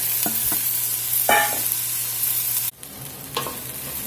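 Yellow onion and peppers sweating in a hot pan, a steady loud sizzle with a few stirring scrapes and a brief clatter midway, no voices.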